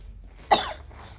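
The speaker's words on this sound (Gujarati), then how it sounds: "આ ક્યારના બેઠા બેઠા ઉધરસ ખાવ છો" A single short, sharp cough from a person sitting indoors, close and fairly loud, against quiet room tone.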